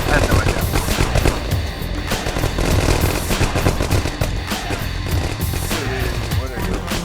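Rapid automatic gunfire from the video game 9th Company: Roots of Terror crackles loudly and continuously, with overlapping bursts and sharp single shots throughout.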